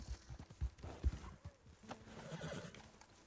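A horse in the Red Dead Redemption 2 video game whinnies while hooves clip-clop in uneven beats, fairly faint and close, with a low drone of ambient game sound.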